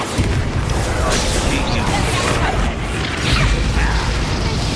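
A Bombarda blasting spell cast in Hogwarts Legacy during combat, a loud dense burst of rumbling, crackling mechanical explosion noise filling the whole moment, with a shout of the spell name just before.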